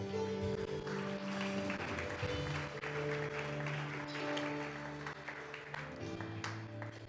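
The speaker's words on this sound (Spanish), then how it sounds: "Démosle una ofrenda de aplausos a Dios." A church congregation claps together in sustained applause as an offering to God, the steady clatter filling the room throughout with a few voices rising over it and a soft musical tone lingering beneath.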